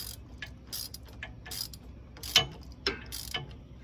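Ratchet clicking as it tightens a nut on a Rough Country steering stabilizer mounted on a Ford F-250, a handful of sharp metallic clicks in an uneven rhythm, close and fairly quiet.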